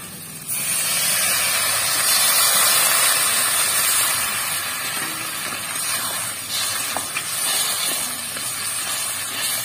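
Water poured into a pan of snakehead fish curry (shol macher kalia) sets off a loud, steady hiss and sputter that starts abruptly and then settles to a softer simmering sizzle, with no talk.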